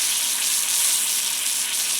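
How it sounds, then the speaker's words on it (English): Roast beef sizzles steadily in a hot pan on a woodstove, a dense, even hiss close by with no talking. "Hear how that's still sizzling?"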